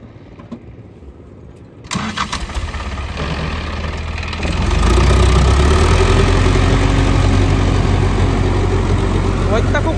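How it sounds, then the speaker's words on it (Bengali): Indofarm 3055Di two-wheel-drive tractor running in third low gear, working a rotavator in deep mud; the engine catches and settles into a loud, steady diesel drone that swells in power partway through. "গাড়িটা 3 নম্বর লোয়ে চালাচ্ছে।"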